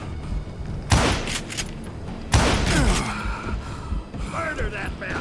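Two loud, sharp rifle shots in the Western game Call of Juarez Gunslinger, each ringing out and echoing for a moment, about a second and a half apart, followed by quieter mechanical clicks and rattles.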